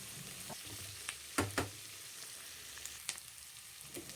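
Garlic and onion frying together in a pan for a dry fish curry, a soft, close sizzle with a few sharp stirring clicks and scrapes scattered through it, alone without speech.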